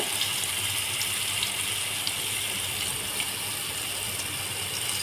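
Boondi batter dripping into hot oil and frying produces a dense, continuous hiss with faint crackles and pops, steady and fairly loud up close.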